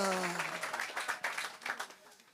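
A church congregation applauds to praise the Lord after a baptism, with dense clapping and cheering voices that rise and fall over about two seconds.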